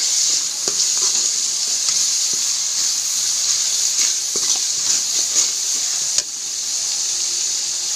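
Cumin, turmeric, salt and chopped green chillies stirred in a hot frying pan: a loud continuous sizzle and hiss close up, with scattered scrapes and taps from the spoon.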